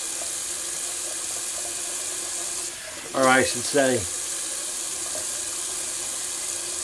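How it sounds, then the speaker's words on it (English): Cold tap water runs briefly into a sink for a rinse after a wet shave, a short splashing burst under a steady background hiss, with someone speaking just before. "Just a cold water rinse."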